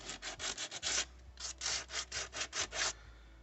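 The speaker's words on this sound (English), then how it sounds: "So now that I have all the pieces sanded off" Hand sanding of a cracked plastic car bumper: about a dozen quick, rhythmic abrasive strokes with a brief pause partway through, close and clear, with no talking.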